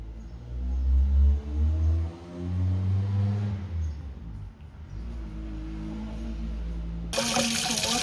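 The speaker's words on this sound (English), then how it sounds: "Going to water the plant." Water runs steadily from a tap at an apartment in La Zenia, Spain, a close, continuous hiss with low hum underneath, ending in a sudden louder burst of splashing.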